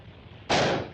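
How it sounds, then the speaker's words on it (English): A single sharp gunshot fired at a rope in a western-style shooting display, a sudden loud crack with a short decaying tail after a quiet moment, close by. "Master shooting the rope right in the center of the middle, just like the Lone Ranger."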